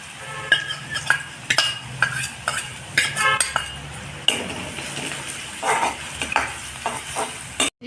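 Chopped garlic and chilli fry in a pan for a Bengali masoor dal with vegetables, a steady sizzle broken by repeated metallic scrapes and clinks of a spatula stirring against the pan, close and fairly loud.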